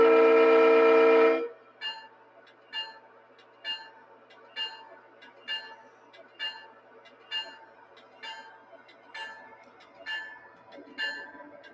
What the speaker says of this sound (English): The horn on this thing is ridiculous. It's got like bass. You feel it in your chest.